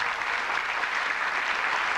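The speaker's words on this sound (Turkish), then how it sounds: "bir alkış alır mıyız?" An audience claps steadily and loudly at a Turkmen concert, a dense continuous wash of applause with no break and no voices standing out.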